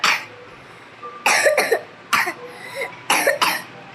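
Someone coughs repeatedly, harsh and close, in short bursts of two or three coughs separated by brief pauses.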